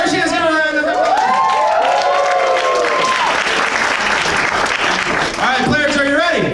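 Loud crowd applause and cheering at a Halloween show fill the space, with voices talking and calling out over the clapping throughout.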